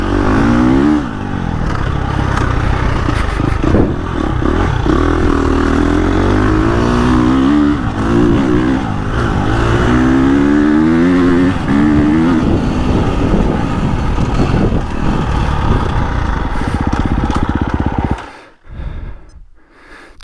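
KTM 350XCF dirt bike ridden hard on a GP track, its engine roaring loud and close throughout with rising and falling revs through the gears, then cutting out abruptly near the end.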